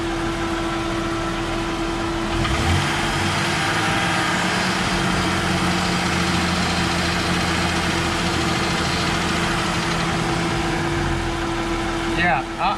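Jeep engine idling after a crank sensor repair, a steady low rumble with a constant hum, close and even, with brief handling noise near the end.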